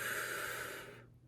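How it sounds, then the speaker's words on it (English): A single deep breath drawn slowly through the nose, a close airy inhale that tapers off into silence, no speech. "you can close your eyes and take a deep breath"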